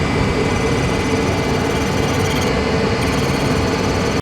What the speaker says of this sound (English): I am being careful to run my wheel down onto the edge that's going to be doing all the cutting